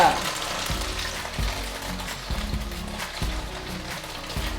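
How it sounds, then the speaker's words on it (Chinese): A tofu hamburger patty fries in a pan over medium-low heat, giving a steady, close sizzle with soft crackle throughout and low rhythmic thumps beneath, no voices. "我是用中小火慢慢煎， 這樣裡面才會煎得透。"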